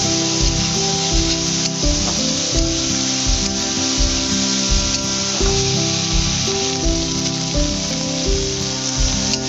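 Pointed gourd frying in a pan with salt and turmeric, a loud continuous sizzle with rhythmic stirring scrapes close by, no talking.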